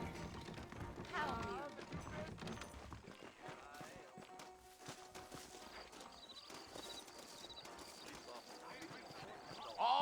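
Horse hooves clip-clop at a steady walking rhythm in the video game Red Dead Redemption while voices talk over them, with ambient outdoor noise throughout.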